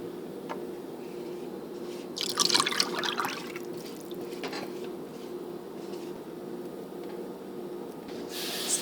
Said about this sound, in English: Mix melted butter with eggs and buttermilk.